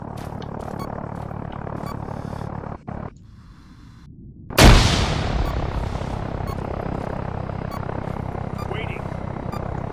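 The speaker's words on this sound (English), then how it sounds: "Frag out." A frag grenade blast in Arma 3 with the RHS mod erupts as a sudden loud broadband boom midway, following a brief lull, then rolls into a long rumbling decay over steady battlefield noise.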